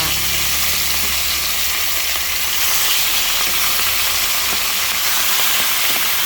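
Hasa-hasa fish, seven of them, sizzling and frying in hot oil for lunch, a steady close crackling hiss that continues unbroken with no talking.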